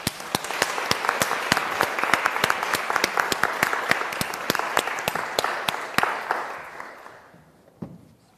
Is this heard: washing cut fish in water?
no